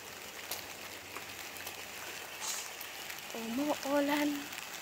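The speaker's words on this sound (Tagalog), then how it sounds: "Umuulan ngayon." Rain falling outside during a walk back to an apartment building, a steady soft hiss of drops throughout, with a brief high tonal chirp near the end.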